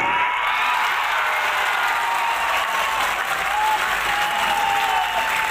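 A large crowd in Gorakhpur claps heartily for a revered spiritual leader, Maharaj ji, in a continuous, even roar of applause that holds at full strength throughout.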